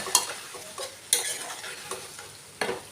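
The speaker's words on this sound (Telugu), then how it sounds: "ఇప్పుడు మనకు కాలీఫ్లవర్ ఇలా మంచిగా నూనెలో ఉడికినాక 2 టమాటాలు ఇలా చిన్న చిన్న కట్ చేసుకొని వేసుకోవాలండి" Cauliflower frying in oil with chopped tomatoes being stirred in, giving a soft sizzle under several sharp scraping strokes of a spoon against the pan, close and fairly quiet.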